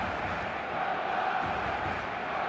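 A large stadium crowd in a football video game roars in a dense, steady wall of noise, a broad continuous murmur and cheer that holds level with no breaks.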